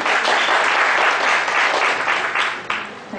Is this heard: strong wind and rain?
no